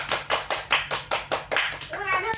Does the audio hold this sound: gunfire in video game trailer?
no